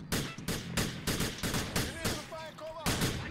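Rapid bursts of gunfire in the video game GTA 4, sharp repeated shots in quick succession, loud and close, with a voice briefly talking in between.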